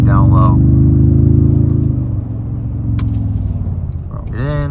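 Loud, close engine drone from a 2024 Toyota Tundra TRD-Pro pulling at about quarter throttle, a steady low rumble that eases off midway and then rises again, with a voice speaking over it.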